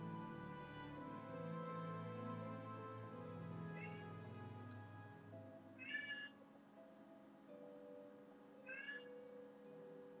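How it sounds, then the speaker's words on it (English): A street cat meows outdoors, three short distinct calls spaced a few seconds apart over a steady background hum, no talking. "Some street cat outside."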